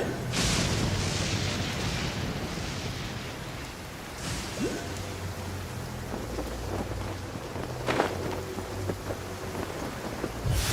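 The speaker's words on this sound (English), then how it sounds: "Ah, it's raining?" Steady rain with rolling thunder in Genshin Impact's Fontaine region, a dense, loud downpour hiss throughout with deep booming rumbles and a sharper thunder crack near the end, no talk.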